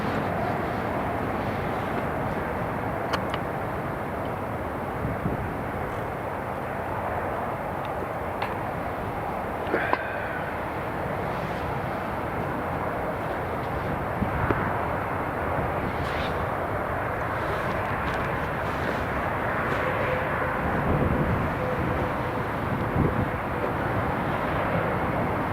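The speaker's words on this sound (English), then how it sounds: "Next up, we've got a Ryanair coming in from Leeds," Ryanair airliner arriving from Leeds on approach to land at Newcastle International Airport, a steady broad roar of jet engines and wind rumble held at an even level throughout, fairly distant with no voices.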